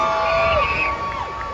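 A crowd at a Hot Wheels Monster Trucks Live arena show cheers and whoops for the Skelosaurus truck, a loud burst of shouting with high children's voices that swells and then eases slightly.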